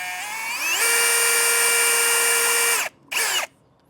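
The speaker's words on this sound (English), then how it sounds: "And I am just using a 1/8 inch drill bit for right now." A power drill fitted with a 1/8 inch bit bores holes while an RV hand rail is installed. It gives a loud, steady whining run that climbs in pitch, cuts off, then comes back for one short final burst.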